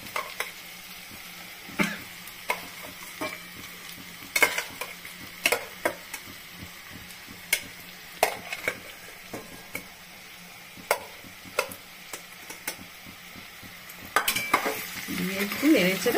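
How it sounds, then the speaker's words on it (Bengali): Jackfruit and fried potato sizzle in a pan while a utensil stirs, giving irregular sharp scrapes and clinks over a soft frying hiss, growing busier toward the end. "এঁচোড় আমার পুরো ভাজা হয়ে গেছে কমপ্লিট।"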